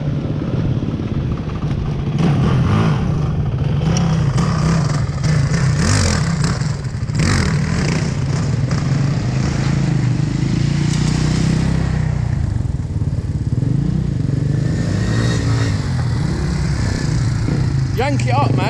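A Honda TRX quad ATV revs hard while it is ridden, its loud engine droning steadily with rises and falls under the clatter of riding, and voices are heard over it.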